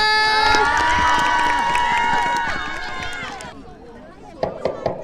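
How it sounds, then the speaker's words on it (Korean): A talent show audience at a school family sports day cheers and shrieks loudly with clapping mixed in, a dense sustained roar that tapers off after a few seconds, followed by a few sharp thumps. "뜨거운 박수 부탁드립니다"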